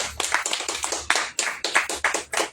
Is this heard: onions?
no